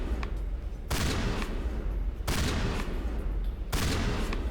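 Three loud bursts of video-game gunfire in Mass Effect, each a dense sustained volley about a second long, fired at boxes with short lulls of rumbling ambience between them.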